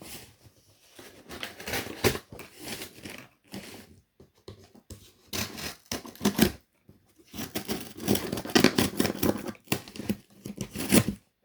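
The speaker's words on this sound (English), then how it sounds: "Small scissors don't work well in big boxes." Small scissors saw and rip through a large cardboard box, bursts of rough tearing and crackling cuts separated by brief pauses, close and fairly loud, no talking.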